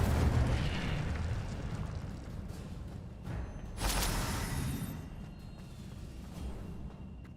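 An Incendio fire spell cast in Hogwarts Legacy, a rumbling whoosh and burst of flame followed by a sharp blast a few seconds in, then a fading roar, moderately loud with no voices.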